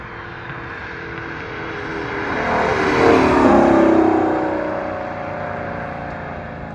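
A Mustang race car at Summit Point Raceway roars past, its engine building to a loud peak midway and then fading as it moves away, with no talk over it.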